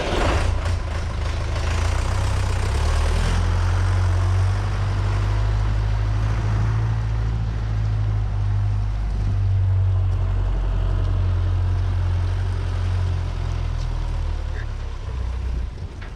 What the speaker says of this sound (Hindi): इसमें सबसे पहले ये अपना एक मिक्सर जो छोटे ट्रैक्टर के साथ में बांध के ये ले आए हैं